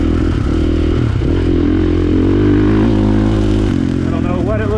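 A 2022 KTM 450 SX-F Factory Edition motocross bike is ridden around a dirt track, its engine roaring loud and steady with rising and falling pitch as the rider works the throttle, wind noise buffeting throughout.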